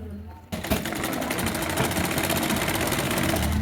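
A sewing machine runs continuously, stitching the sleeve of a garment made from an old sari. After a brief quiet start it settles into a loud, steady, rapid mechanical whirr and clatter.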